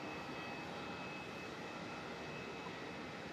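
A Jetstar Airbus A320 arriving at Melbourne Airport produces a faint, steady jet engine roar with a thin high whine, heard from a distance as a continuous broadband rush.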